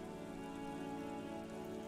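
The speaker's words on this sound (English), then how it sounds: "rain falls on the great city of Revachol. Rain drips from the eaves and floods the gutters" Steady rain falling over the city of Revachol in the video game Disco Elysium, a continuous soft wash of drops mixed with a tonal ambient drone, constant and fairly quiet.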